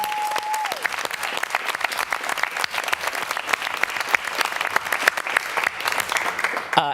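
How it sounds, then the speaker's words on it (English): An audience claps steadily for a forensics team member who won a first-place gold medal, dense applause sustained throughout, with a brief tone at the start. "So could you give her a round of applause?"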